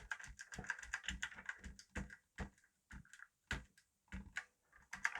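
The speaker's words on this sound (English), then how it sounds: "They're supposed to have a click, but they're not supposed to sort of crunch down." Crunchy, clicky key presses on a dirty Apple IIc computer keyboard under repair, a close run of irregular taps that speeds up then thins into spaced single presses, quiet and dry.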